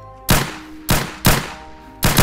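Four sharp gunshots from a new gun in the Minecraft SCP mod, loud and close, fired in an uneven rhythm with short decaying tails and no talking over them.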